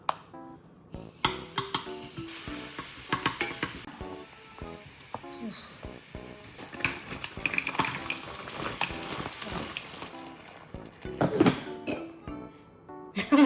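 Garlic sizzles in olive oil in a home kitchen, with steady frying noise under repeated stirring and the clink of pots and utensils; a few brief voices break in near the end.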